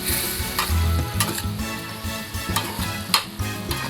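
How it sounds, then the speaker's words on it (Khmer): Pork liver with ginger and green onions is stir-fried in a hot pan, with steady sizzling and repeated tossing and scraping strokes throughout, over a faint background of music. "យើងដាក់ស្លឹកខ្ទឹមចូលចាឆាត្រឡប់ចុះឡើងជាការស្រេច"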